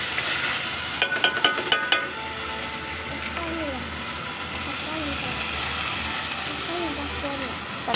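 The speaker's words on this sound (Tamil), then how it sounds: "வெங்காயத்தில் போட்டு நல்லா வதக்குங்க." Onions and green chillies sautéing in a pan, a rapid run of spoon clinks early on over a constant sizzle, then a gliding tonal whine in the background while the frying continues.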